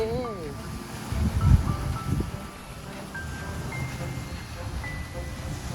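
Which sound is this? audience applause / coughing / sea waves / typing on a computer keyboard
sea waves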